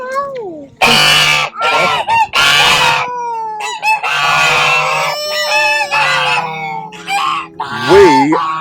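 Geese on a farm honk loudly and insistently at close range in a series of harsh, overlapping calls, with other fowl sounds mixed in and nobody speaking.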